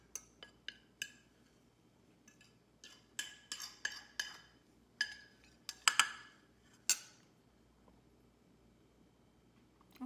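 A spoon clinking against a bowl while mixing grated nutmeg and cinnamon, a series of light irregular taps and scrapes, close and fairly quiet over near silence.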